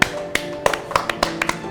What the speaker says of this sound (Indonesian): Tepuk tangan lu dong buat Mbak Im